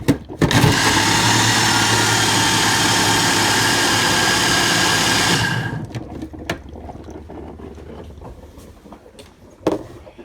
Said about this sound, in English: Coffee maker making me coffee.